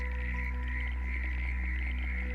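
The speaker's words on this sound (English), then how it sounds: "The first voice, the beginning of the frog chorus, often arrives with hesitation" A frog calls in a wetland at night, a steady pulsing croak repeating over a constant low hum, close and fairly prominent.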